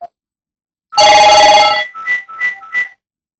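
An indoor telephone rings in a loud electronic burst lasting about a second, then gives three shorter chirping tones in quick succession, with no talk over it.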